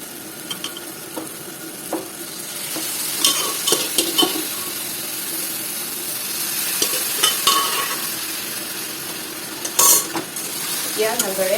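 Taro leaves and fish stirred and fried in a pan, with a steady sizzle broken by scraping and clattering strokes of a spoon against the pan, close and fairly loud.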